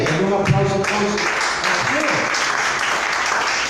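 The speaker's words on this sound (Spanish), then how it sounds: "Un aplauso a todos." A church congregation breaks into applause, a dense patter of clapping hands mixed with voices and cheering calls rising over it, loud and close throughout.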